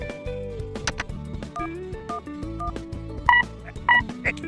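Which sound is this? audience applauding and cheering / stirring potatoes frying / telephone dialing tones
telephone dialing tones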